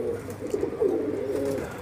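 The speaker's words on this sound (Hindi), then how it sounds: "ये देखो गाइस ये उड़ रही है हम लोग के कबूतर के साथ में" Pigeons coo softly and steadily nearby, a low throaty burbling that carries on throughout.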